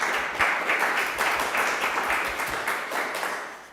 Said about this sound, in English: So give her a warm applause, Iris van der Valk